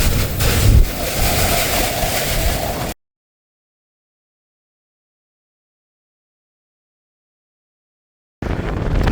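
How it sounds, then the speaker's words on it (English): Strong wind blows outdoors, roaring and buffeting the microphone in a loud, steady rush that cuts out abruptly to silence partway through and then resumes near the end. "it's very windy out still"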